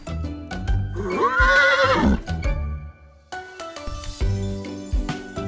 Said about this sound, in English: Letter H is for horse.